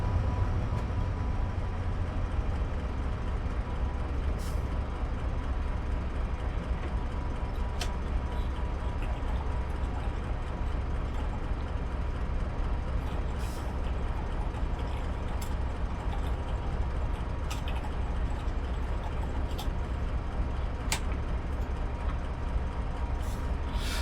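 A Class 70 diesel locomotive driving in Train Simulator on the South Wales Coast route, with a steady, loud low engine drone and rolling rumble throughout, plus a few faint clicks.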